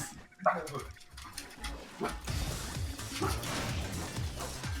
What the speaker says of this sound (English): I'm gonna let my dogs outside. They're freaking out.